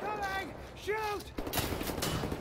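Gunfire in the Wolfenstein: The New Order video game, a quick cluster of sharp shots following a short shouted voice, fairly quiet and brief overall.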